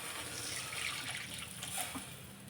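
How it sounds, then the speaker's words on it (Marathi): Water poured into a cooking pan of vegetable curry with onion-tomato masala and red chilli, a steady trickling splash lasting a couple of seconds, close and moderately loud, with no talking. "छोटे 2 ग्लास पाणी घालणार आहे"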